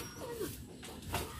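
Pet dogs at a home whimper and let out a few short yips, faint and somewhat distant over steady background noise, with a thin whining tone early on.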